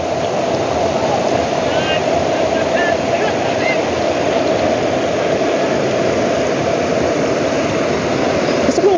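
Heavy floodwater spills over a bridge during a downpour, a loud, steady rushing roar mixed with rain and wind that continues unchanged for the whole stretch.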